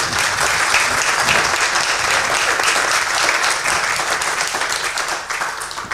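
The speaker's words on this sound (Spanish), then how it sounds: "Quiero nuevamente pedirles un gran aplauso a ellos" A crowd applauding loudly for presenters, dense clapping sustained throughout before starting to taper off at the very end.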